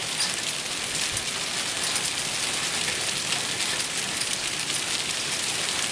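Large hail pours down in a dense, steady roar of countless impacts, loud and unbroken throughout with no voices.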